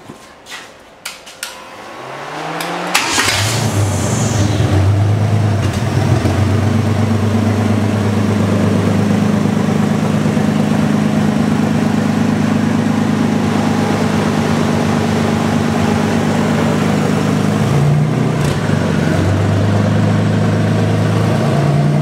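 A 4.3L V6 engine on a test stand cranks and catches after a few seconds, then settles into a steady, loud, continuous idle with a low droning rumble.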